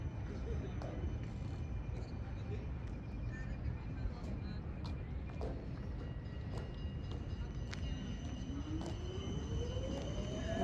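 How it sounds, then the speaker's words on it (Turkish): A low, steady rumble of a tram rolls past at some distance in Amsterdam, with a rising whine toward the end over street background noise. "Tramvay gidiyor."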